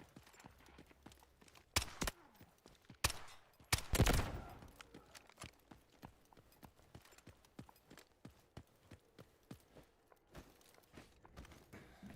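Gunfire in the shooter game Delta Force: sharp cracks ring out in scattered single shots and short rapid bursts, with a louder cluster near the middle, fairly close, over a quiet background.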